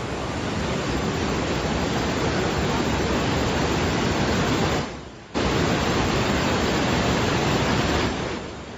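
Napne waterfall at Vaibhavwadi in Sindhudurg, beneath a glass bridge, pours as a loud, continuous close-up roar of falling water that cuts out briefly midway and then resumes.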